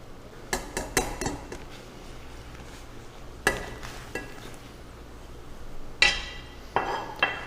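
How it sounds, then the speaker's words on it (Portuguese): Homemade gnocchi tipped into a cooking pot all at once, heard as scattered clinks and knocks of pot, utensils and glass, with a few sharp clattering hits spaced out over quiet kitchen background. "Então coloca a porção que você vai cozinhar e despeja na panela de uma vez só."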